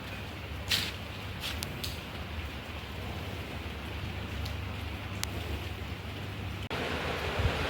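Steady rain falls in a rural Punjab village, a dense even hiss of drops on surfaces with a few brief knocks, constant throughout and without speech.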